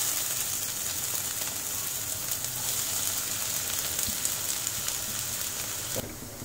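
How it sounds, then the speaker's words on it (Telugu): Onions sizzle and fry in one to two tablespoons of hot oil in a heated pan, a steady loud crackling hiss running throughout with no talking. "సో ప్యాన్ హీట్ అయిందండి, దీంట్లో ఆయిల్ యాడ్ చేసుకుందాం. 1-2 టేబుల్ స్పూన్స్ ఆయిల్ యాడ్ చేస్తున్నాం. సో ఇప్పుడు ఆనియన్స్ వేసేసుకున్నాను."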